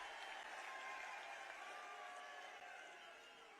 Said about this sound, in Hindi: एक बार तालियों के साथ स्वागत कर दें।